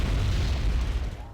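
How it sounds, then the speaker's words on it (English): Artillery bombardment in the war strategy game Wargame Airland Battle rumbles as a heavy low boom with a rolling, sustained tail, loud and close, fading out toward the end. "that bombardment's not going to be able to do too much"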